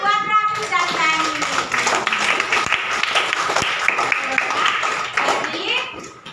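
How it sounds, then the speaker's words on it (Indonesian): Classroom applause for two pupils, Raffi and Gani, during a teaching session: a short burst of children clapping together, close and fairly loud, with children's voices and talk mixed in over it. "tepuk tangan buat Raffi dan Gani"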